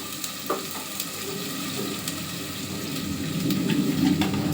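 Onions sizzle steadily in a hot pan while being fried for sambar, with a continuous crackling hiss and faint stirring scrapes.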